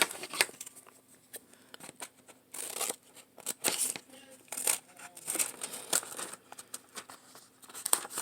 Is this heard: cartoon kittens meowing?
no